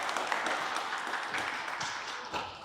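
Steady applause from a crowd, a dense wash of clapping that holds evenly throughout and tapers slightly near the end.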